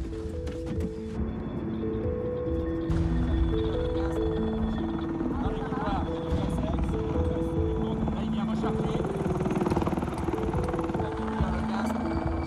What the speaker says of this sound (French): Ils sont en train de nous sécuriser le terrain en hélico.